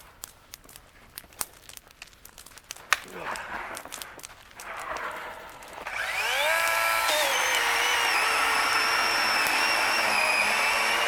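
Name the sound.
electric chainsaw cutting firewood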